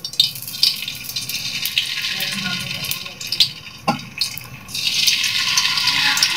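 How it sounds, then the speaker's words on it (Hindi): Pakoras drop into hot ghee in a kadai and fry with a loud, close, continuous bubbling sizzle that swells toward the end, while a voice speaks over it. "अब हम इसके अंदर पकोड़े डालेंगे।"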